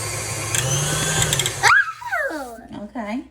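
An electric mixer whirs loudly through pumpkin bread batter in a home kitchen for under two seconds, then stops and voices talk.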